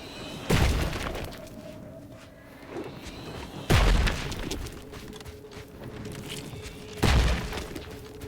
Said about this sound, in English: Mortar fire! Move!